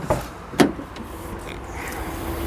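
Electric windows operating on a 2014 Peugeot iOn electric car, a short whirring motor run inside the cabin preceded by a couple of soft clicks, close and fairly loud with no talking.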